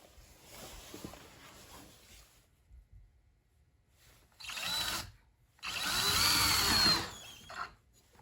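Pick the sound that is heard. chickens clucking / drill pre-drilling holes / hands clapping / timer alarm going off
drill pre-drilling holes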